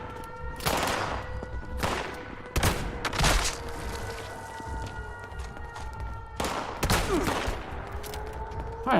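Repeated bursts of weapon fire from the Fallout 76 video game, sharp loud volleys clustered near the start and again later, with thuds and a steady tonal game hum underneath.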